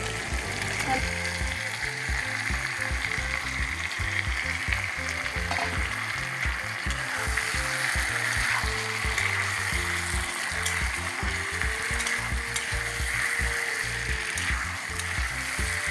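Potatoes fry in a pan for chicken curry, giving a steady dense sizzle with rhythmic scraping and stirring pulses throughout, close and fairly loud.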